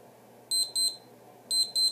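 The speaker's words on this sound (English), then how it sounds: "then it'll beep to tell us to start running again here" Gymboss interval timer beeping to signal the start of the next running interval: two quick pairs of high, piercing electronic beeps, close and clear over faint background noise, with no talking.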